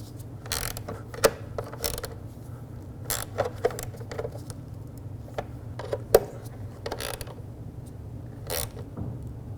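Wrench tightening intake manifold bolts on a Ford F-150, faint scattered ratchet clicks and small metallic taps over a low background hum.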